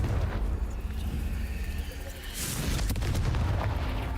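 A Confringo fire spell explodes in Hogwarts Legacy, a booming blast bursting in over steady game background rumble, with a sharp burst of crackle and debris afterward.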